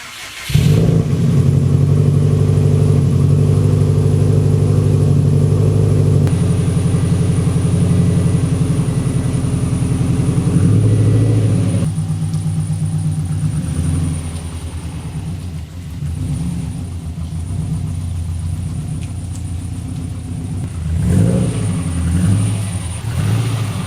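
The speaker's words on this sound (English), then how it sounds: "we need to go ahead and get this car out of this garage space, and we're going to pull it into the backyard" A Subaru WRX engine rumbles deeply as the car pulls out of a garage, a loud, steady low throb that shifts pitch a few times and eases slightly as it moves off.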